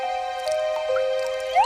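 A leaky faucet lets a few drips fall with a bright, ringing plink, two or three close, clean drops in an otherwise quiet room.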